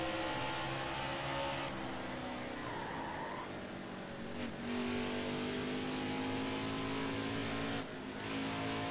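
Race cars in the NASCAR Heat video game give a steady engine whine with brief shifts and revving changes, continuous and fairly loud, with no voices.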